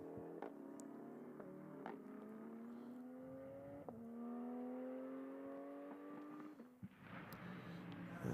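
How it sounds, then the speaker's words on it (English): GT race cars, including GT4 machines, drive back into the pit lane at the Magny-Cours circuit after qualifying. Engines hum and rise in pitch through upshifts, with one car passing loudly before a sharp change in tone. "So the cars are just making their way back into pit lane."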